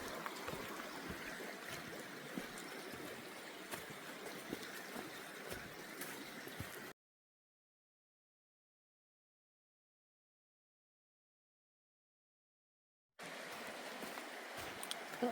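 Stream flowing at a water crossing on the Appalachian Trail in North Carolina, a steady close rushing and trickling wash that runs continuously, breaks off into a long silent gap, then resumes just as full.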